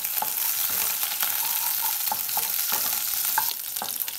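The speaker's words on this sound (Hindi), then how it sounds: "अब मैं इसमें चॉप्ड हरी मिर्ची और चॉप्ड लहसुन डाल के फ्राई करूंगी।" Chopped green chillies and garlic fry in a little oil in a pan, a steady close sizzle with occasional stirring scrapes and light clinks, no voices.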